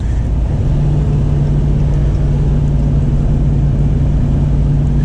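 A 2023 Dodge Ram TRX pickup pulls along the road, its engine a steady, loud, low drone with a constant hum heard from inside the cab, and no talking.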